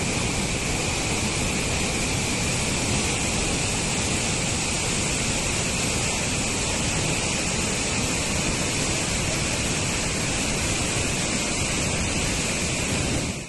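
Surplus water pours from the Poondi Sathyamurthy dam in Tiruvallur district, released once the reservoir reached 90% capacity. It makes a loud, steady, close roar of rushing water with no pauses and no voices.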